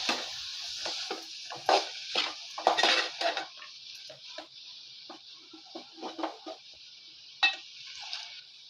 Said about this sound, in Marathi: मी ताट बाजूला करते